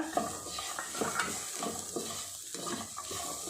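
Green peas fry in a pan with oil for an aloo-peas curry and are tossed with a spatula. The result is a faint, steady sizzle with repeated light stirring scrapes and occasional clinks.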